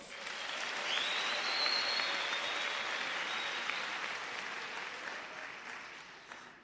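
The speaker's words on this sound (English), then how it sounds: "Please give yourself a warm round of applause." Warm audience applause at a tenth-anniversary lecture, a steady, even wash of clapping from a crowd that holds for several seconds and slowly fades toward the end.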